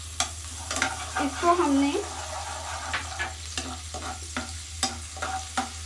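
Garlic paste frying in a little oil in a pan gives a steady close sizzle, with spoon stirs and scrapes on top and brief talk over it.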